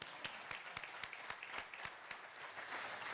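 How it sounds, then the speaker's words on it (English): Audience at a Johan Cruyff Institute ceremony giving a round of applause, steady faint clapping from a modest crowd with individual claps standing out rhythmically, no talk over it. "Still a warm round of applause anyway."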